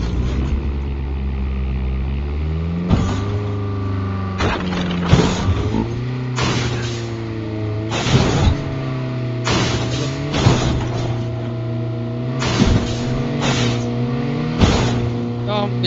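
A vehicle engine in CODM Battle Royale drones steadily, rising and falling as it draws near, under repeated sharp gunshot-like bursts and loud squad voice chat throughout.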